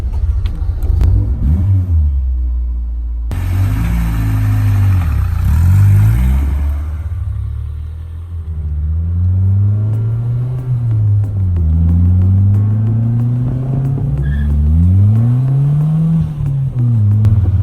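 A classic Mini Cooper converted to four-wheel drive with a VTEC engine rumbles loudly up close. After an uneven start, the engine settles into repeated revs that swell and ease in pitch.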